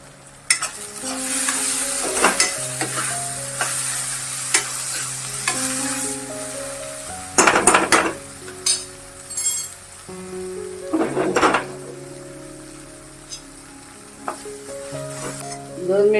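Chili powder and asafoetida sauté in a pan for wild fodshi greens, with a lively close sizzle and repeated bursts of clanking, scraping spoon strokes.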